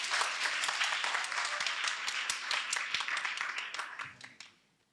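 An audience at a televised debate claps for a participant, a dense burst of applause that runs steadily and then dies away over the last second.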